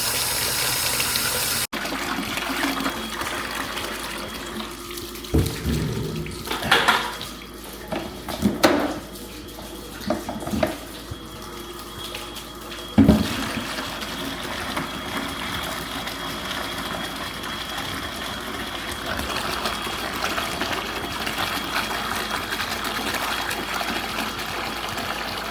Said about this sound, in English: I'm just going to fill some bucket-like objects that I have around the house